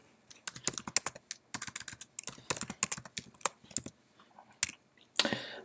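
Fast bursts of close computer keyboard typing as MySQL setup commands are entered on Ubuntu, clustered clacking keystrokes with brief pauses and a louder final rattle.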